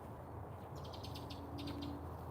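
Small birds chirp in a humid morning garden after rain, two short bursts of quick tweets over a low steady background hum.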